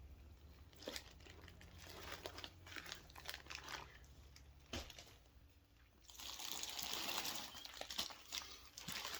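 Plastic bags crinkling and rustling up close while being sorted and handled, with a steady run of crackly rustles that grows denser and louder toward the end, over faint low background hum.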